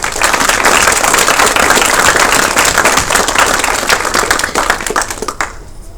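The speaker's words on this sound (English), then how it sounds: "Let's give a round of applause to Gabriel and Dominic." Loud, sustained applause from an audience at a military retirement ceremony fills the space, dense clapping that carries on steadily before tapering off at the end.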